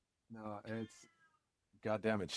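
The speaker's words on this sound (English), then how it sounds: "If you hear a cat in the background, it's because I have a cat." A Siamese cat meows indoors in two bursts of drawn-out, chatty calls, one at the start and one at the end, mixed with a person talking nearby.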